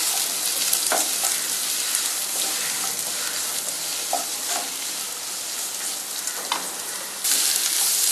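Onions sautéing in a pan for Tamil potato kurma give a steady, close, loud frying sizzle with occasional stirring scrapes and clicks throughout, with no talking.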